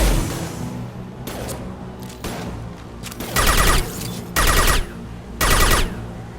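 Gunfire rattles through a firefight in Mass Effect 2, loud repeated bursts and blasts crowding over dense game noise and music, with three heavy bursts standing out near the end.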